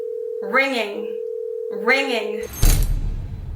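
A regular phone call ringing out after a FaceTime call is hung up: two long ringback tones, each with a voice speaking over it, followed by a sudden burst of noise as the line connects.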